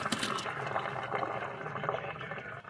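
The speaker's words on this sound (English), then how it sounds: "After the rivels have boiled for about 2 minutes, I'd say, dump them into a colander" Boiled rivels and their cooking water being dumped into a colander, a loud, rushing splash of pouring water that runs steadily for a couple of seconds before tapering off, close by.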